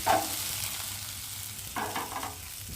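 Prawns frying in a pan are stirred in two short scraping bursts, one at the start and another near the end, over a continuous low sizzle with no talking.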